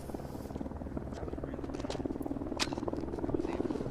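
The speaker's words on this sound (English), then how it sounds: "News Chopper 4 Bravo overhead" A news helicopter hovering overhead, a steady low rotor drone running throughout beneath continuous broadcast talk.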